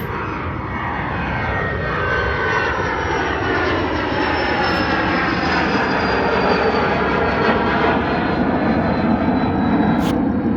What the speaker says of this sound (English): Private jet taking off.